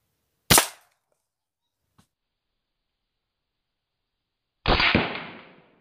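Two sharp, loud gunshots ring out outdoors during a dove hunt, about four seconds apart, the second with a longer echoing tail, and a faint tap between them.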